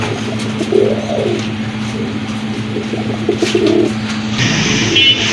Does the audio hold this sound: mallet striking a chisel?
no